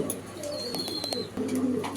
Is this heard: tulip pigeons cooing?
yes